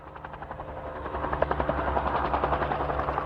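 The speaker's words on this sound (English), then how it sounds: "A helicopter chasing wild Mustang horses across the California range." A helicopter's rotor thumps in a rapid steady rhythm over a broad engine roar, loud and growing slightly nearer, as it chases wild mustang horses across the California range.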